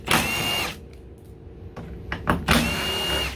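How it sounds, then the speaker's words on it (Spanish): A power drill spins out screws from a Ford 5R55W transmission valve body, two sustained whirring bursts at the start and end with a shorter buzz and mechanical clicks between them. "aquí están viendo donde le estoy quitando los tornillos"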